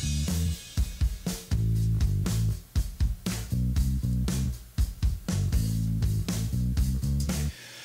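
Drums and bass heard soloed through a heavily driven parallel 1176-style compressor. Kick, snare and cymbal hits pump tightly against a thick, sustained bass line in a steady groove, with no voices.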